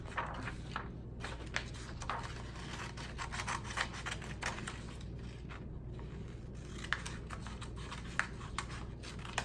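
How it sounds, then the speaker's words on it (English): Scissors cutting out a paper pumpkin, a quiet run of small irregular snips and rustles, close and soft against a low background hum. "And then I'm gonna use my scissors to cut it out."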